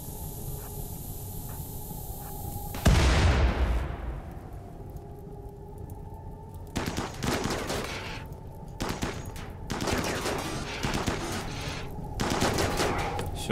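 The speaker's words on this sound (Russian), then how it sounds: "Ну, а здесь есть взрыв." Explosion in RimWorld: a sudden loud blast with a long hissing, rushing tail, then further bursts of crackling gunfire-like noise over a steady electronic game hum.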